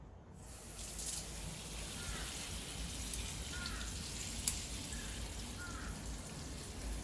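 Water sprays steadily from a shower head onto large potted camellias, giving a continuous soft hiss with faint splashing, unbroken and without talk.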